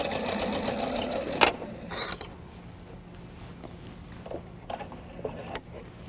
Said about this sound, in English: I'd probably sew off onto another anchor cloth.